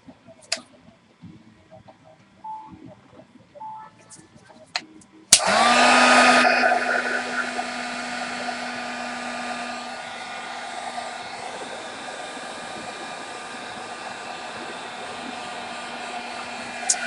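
A hair dryer drying paint on a butterfly canvas switches on abruptly after a few seconds of faint handling noises, then blows loud and close with a steady whooshing whine that eases slightly and holds to the end.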